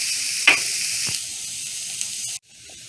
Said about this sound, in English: the chili is over there cooking on medium heat